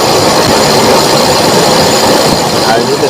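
A motorcycle engine is throttled slightly during a carburetor vacuum test with the intake covered by a finger. It gives a loud, continuous close-up engine roar.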